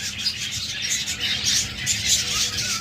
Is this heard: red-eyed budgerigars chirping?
yes